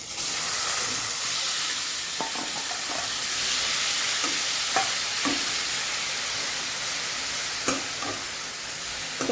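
Grated bottle gourd sizzles and fries in ghee as a spoon stirs it, a steady close hiss with scattered scraping clinks of the stirring throughout, no voices.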